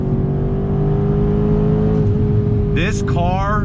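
A 2019 Mercedes-AMG C63 S sports car on a race track, its engine roaring loud and steady at high revs, then dropping pitch on a downshift as someone talks over it.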